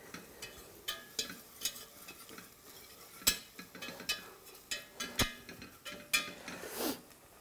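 Spoon stirring a flour roux in a pot for tuna mornay, a steady run of close, light scraping taps with a soft background sizzle and no talk.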